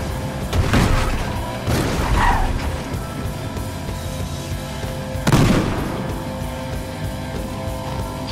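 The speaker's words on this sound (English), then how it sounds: "Are those fucking rockets?" Rocket explosions in the video game Battlefield Hardline: three loud, broad booms with rumbling tails, near 0.6, 1.7 and 5.3 seconds, over steady vehicle and gunfire noise.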